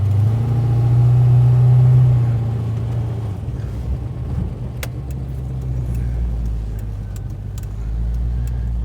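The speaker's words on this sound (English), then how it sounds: "let a couple big trucks go by." A heavy vehicle rumbles past up close, its deep low engine drone swelling loudly and then easing into a steady background hum.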